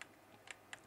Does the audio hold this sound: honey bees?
no